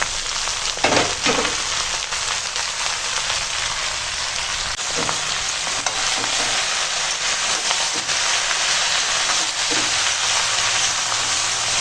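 Prawns sizzle and fry in a hot pan while being sautéed together with spices, making a steady, loud crackling hiss throughout, with occasional soft scrapes of stirring.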